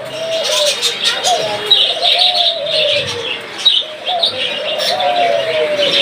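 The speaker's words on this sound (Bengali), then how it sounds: "আর এখানে একটা ঘুঘু পাখি দেখতে পাচ্ছেন" A caged dove offered for sale alongside budgerigars gives repeated close, loud coos in a rhythmic series, with light chirps and rustling around it.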